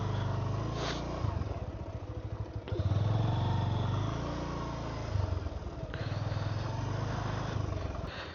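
Motorcycle engine droning steadily at close range while riding through deep sand on a rural track in Sunamganj, Bangladesh, with the note rising and falling as the throttle shifts and no talk over it.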